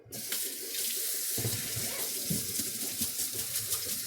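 A kitchen faucet runs steadily into a sink full of potatoes being rinsed, a close, continuous stream with light splashing throughout.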